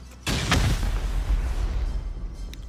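A turret blown apart by an explosion in a survival raiding video game: a sharp boom right at the start, then a loud crackling roar of debris and fire that slowly fades.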